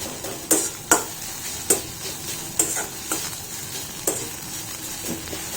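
Chopped cabbage and spices fry in a pan over medium heat, a steady sizzle broken by regular scraping stir strokes that land roughly every half second, close and fairly loud with no voices.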